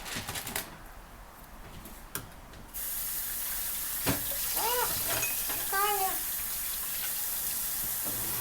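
Tea is poured in a home kitchen, a steady soft trickle running for several seconds, with a few light clinks heard partway through.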